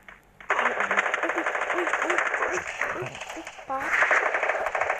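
Bursts of automatic gunfire from the Free Fire video game in a 4v4 match, steady rapid shots running through most of the stretch over game background sound, with a voice talking briefly.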